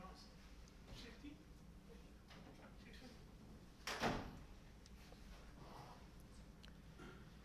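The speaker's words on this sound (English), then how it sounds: "Someone's putting a bunch of keys in the door." Keys jangle briefly in the lock of a classroom door, a sharp metallic rattle in the middle of a quiet room. Faint scrapes and shuffles come before and after it.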